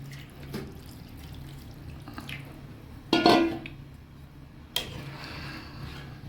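Water poured into a pot of country chicken curry on the stove, a short splashing pour near the middle with a faint clink afterward, over quiet background noise.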